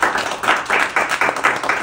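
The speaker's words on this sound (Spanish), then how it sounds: "un aplauso, por favor" A small group claps briefly in a home, with distinct rhythmic hand claps, close by.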